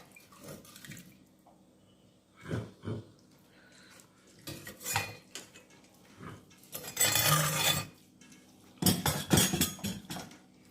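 Food is mixed on a plate in short bursts of clinking and scraping, separated by quiet pauses, with faint watery sounds.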